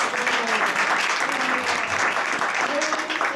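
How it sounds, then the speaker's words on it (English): A gathering at an ISKCON temple initiation ceremony applauds the feast sponsors with steady clapping, while voices and cheers rise above it now and then. "so a round of applause for them"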